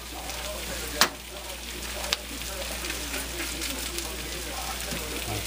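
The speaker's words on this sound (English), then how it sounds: "add just a couple little thin slops of butter here. That'll melt down into there" Butter melting and sizzling in a hot cast iron pan for beef stroganoff, a steady close crackling hiss with two sharp clicks early on.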